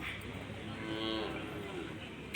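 A cow moos at the Palayakottai cattle market in Tamil Nadu shortly after giving birth to a calf. A single drawn-out low moo rises and falls under steady outdoor crowd noise, somewhat distant and not very loud.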